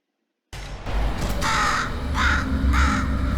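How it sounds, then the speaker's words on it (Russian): Crows caw three times in the video game Portal Stories: Mel, harsh repeated calls standing out clearly over a steady low ambient hum with no talking. "Опять ворона."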